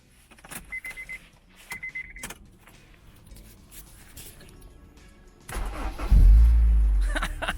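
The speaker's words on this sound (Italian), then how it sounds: "ha bisogno di un piccolo aiutino questo motore per partire" A Honda S2000 engine, left sitting for about a year, cranks and catches with help from a jump booster: a few short clicks and whirs, then a loud, close burst as it fires and settles into a rough running note.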